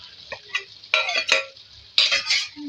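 Ginger and garlic being stirred and fried with already-fried goat liver (kaleji) in a pan, loud close sizzling with repeated scraping strokes of a spoon against the metal, coming in bursts.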